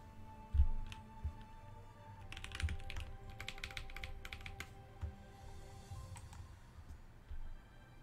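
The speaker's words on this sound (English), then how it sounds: "Oh, Mr. Onion is typing" Rapid, uneven keystrokes clatter on a computer keyboard, with bursts of clicks and short pauses, fairly quiet and close, with no talking.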